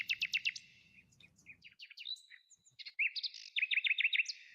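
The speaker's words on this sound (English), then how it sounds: "can you hear them? Can you hear my birds?" Birds chirping in a recording, clear high trills and repeated tweets close by, with a faint low murmur at the start that soon drops away.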